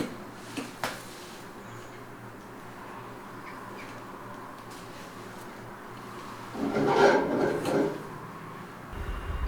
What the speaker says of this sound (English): That's Apollo attention seeking, scraping the bars.